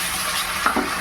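Sauce being stirred into gravy chilli chicken in a pan, a brief scrape of a spoon over a constant loud sizzle.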